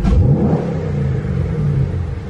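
A car with a big 6.2 engine revs loudly and close, a steady deep rumble that holds throughout with no talking over it.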